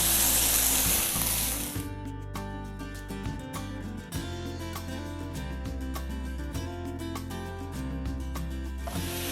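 Chicken pieces fry in a pan with a loud, bright sizzle that runs for about two seconds before cutting off, followed by background music with a brief return of sizzle at the very end.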